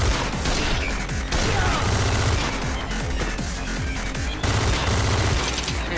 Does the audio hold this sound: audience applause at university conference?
no